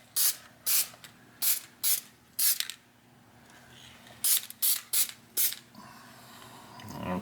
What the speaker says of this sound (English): This thing tends to want to spray wherever the hell it wants to.